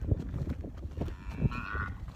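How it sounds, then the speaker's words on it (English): A Black Angus heifer lets out a short, faint, half-hearted moo near the end, over a low farmyard rumble. "Well, that was a sorry moo."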